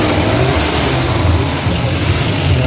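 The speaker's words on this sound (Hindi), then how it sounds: "गाड़ी वाले ने इतना गंदा टर्न काटा और इतनी स्पीड में था" A car passes at speed on a cold hill-station road in Nainital, its engine a loud, steady mid-range drone with a slight rise in revs throughout.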